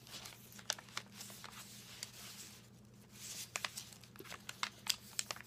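A glassine bag, cut in half, crinkles and crackles as it is handled close up, with irregular sharp rustling bursts and brief quiet pauses, no talk.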